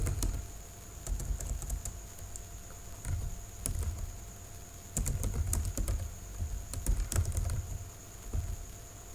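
Steady keystrokes on a computer keyboard as a code is entered into point-of-sale software, close and clear with irregular bursts of clicks over a low background hum, no talking.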